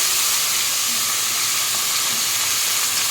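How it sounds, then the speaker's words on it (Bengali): Ash gourd sizzling in a pan with green chilli tempering: a steady, close frying hiss with faint crackles, unbroken and free of talk. "এবার চিপে চিপে আমি এইভাবে চাল কুমড়োগুলো দিয়ে কাঁচা লঙ্কা ফোড়নে দিলে"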